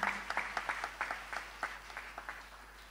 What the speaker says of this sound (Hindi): Big hand for Urmila Ben.